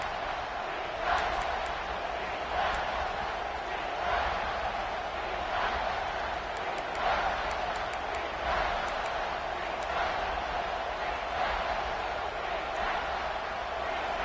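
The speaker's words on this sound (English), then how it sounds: "Decibels rising as the crowd gets behind this defense on third down" Stadium crowd at a college football game, Ohio State against Florida State, roaring steadily through a third-down defensive stand, a loud, sustained wash of cheering with scattered whistles and shouts rising above it.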